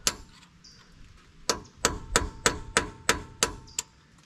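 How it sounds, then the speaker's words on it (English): A chisel or punch struck against a rear brake part on an International 4700 truck, about eight sharp metallic taps in an uneven rhythm after a short pause, close and loud with ringing clangs. "So I started tapping at it with this chisel or punch, and it's actually turning"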